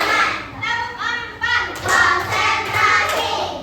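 A classroom of children claps their hands in rhythm with a series of short sharp clap bursts in a repeating pattern, with voices mixed in among the claps.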